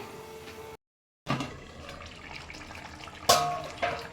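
A little water is poured into a pot of sautéed drumstick (katwa data) vegetables, a steady close splashing rush that breaks off for a brief moment, then resumes and swells near the end. No one speaks.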